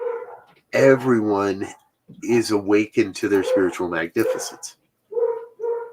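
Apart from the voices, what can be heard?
puppy dogs barking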